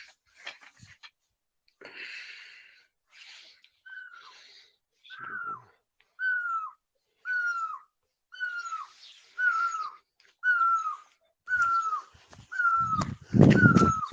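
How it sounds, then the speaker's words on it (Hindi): An Asian koel calls outdoors in a run of evenly spaced, rising whistled notes that grow louder and closer over the stretch, with softer bird chatter at the start and a rough burst near the end. "कोयल की आवाज आ रही है।"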